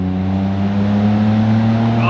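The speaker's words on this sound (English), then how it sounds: "So if you're here for exhaust notes, this is what you're here for." A car is floored at full throttle in an underpass, its exhaust note a loud, steady, droning roar that echoes off the enclosed walls.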